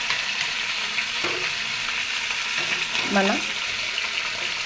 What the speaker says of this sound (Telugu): మనకిష్టమైనటువంటి కరివేపాకు వేసి ఇది బాగా ఫ్రై అయిన తర్వాత